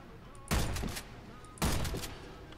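Sidewinder Venom firearm in the Warface shooter game, fitted with an accuracy module and fired at distant targets: two loud, sharp blasts about a second apart, each with a short ringing decay.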